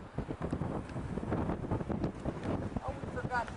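Wind gusting outdoors at a commemorative gathering buffets the microphone in a steady, loud rumble throughout, with people talking underneath.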